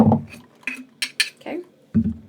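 A cocktail is being mixed, with short metallic and glassy clinks and rattles in separate bursts, close and fairly loud, as a voice talks intermittently between them.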